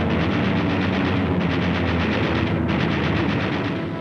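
Sustained rapid machine gun fire from a fighter plane on a strafing run, a dense continuous loud burst with no pauses for the full duration.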